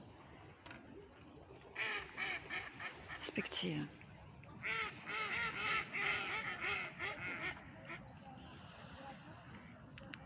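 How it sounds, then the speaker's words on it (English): Ducks at a lake quack in loud, rapid clusters that come and go over about ten seconds, mixed with some honking. A voice speaks briefly at one point amid the outdoor background. "Listen to the ducks."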